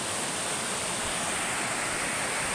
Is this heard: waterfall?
yes